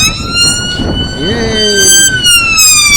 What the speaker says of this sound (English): has either a police siren or an ambulance